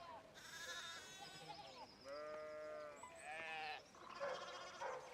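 Several sheep bleat close by in the game Pentiment, wavering calls overlapping and following one another in quick succession.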